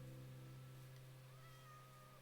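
A cat meows in Minecraft, a single faint drawn-out mew under a low steady hum.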